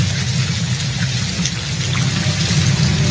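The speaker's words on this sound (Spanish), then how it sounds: "Cae la lluvia sobre Tarapoto la tarde del sábado 12 de junio" Rain falls steadily over Tarapoto on a Saturday afternoon, making a constant, fairly loud hiss and patter that holds evenly throughout with no talking.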